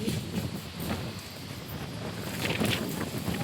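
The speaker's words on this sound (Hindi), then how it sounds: "बहुत हवा चल रही है" Strong wind blows steadily across the microphone, a broad rushing noise with gusty buffeting and no voices.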